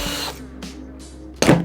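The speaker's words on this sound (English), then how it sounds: "I'm actually going to drill some holes into this." A power drill boring holes into plastic packaging around an Orbea Rise M20 e-bike: a steady whirring run at the start, a couple of brief bursts in the middle, then a louder final burst close by, with no voices.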